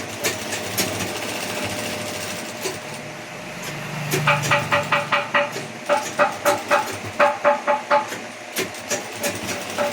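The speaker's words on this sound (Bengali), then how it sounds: "এটাকে আবার একটা সেলাই পদ্ধতি করছি, সেলাই করছি।" A sewing machine stitching fabric runs in bursts of rapid rhythmic clatter, close and fairly loud, pausing and restarting over a light background hum, with no speech.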